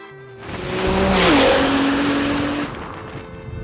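A tuned 1000-horsepower Nissan GT-R roars past at high revs on a canyon road, rising to a loud peak then fading slightly, with a tonal whine shifting pitch as it speeds by.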